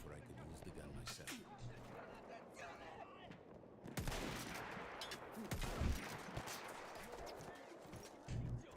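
Gunfire in Battlefield 1, with scattered shots and bursts, some distant, mixed with battlefield rumble, growing louder and denser partway through, under faint talk.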